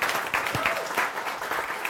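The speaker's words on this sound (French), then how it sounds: "On peut l'applaudir ?" Audience applause at a startup demo day pitch event, a short burst of steady clapping from a crowd filling the room, continuous and fairly loud throughout.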